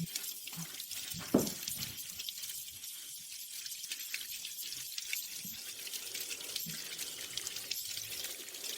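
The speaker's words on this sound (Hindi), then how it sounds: "पाइप फट गया है। पानी बहुत ज्यादा है।" Water gushing from a burst pipe, a continuous hissing rush of spraying water with a brief louder splash near the start, moderately close and without talking.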